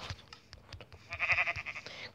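A sheep bleats in a wavering call through the middle, fairly near and moderately loud, among scattered knocks and background sounds.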